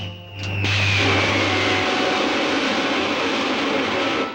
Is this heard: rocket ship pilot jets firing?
yes